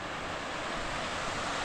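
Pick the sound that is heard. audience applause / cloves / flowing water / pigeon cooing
flowing water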